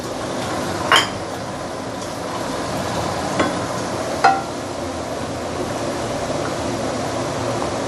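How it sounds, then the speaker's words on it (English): Vegetables hitting a hot wok while prawn noodles with fried egg noodles are being made, with a few sharp metallic clanks of the utensil over a continuous steady sizzle. "I'm going to put in the veggie."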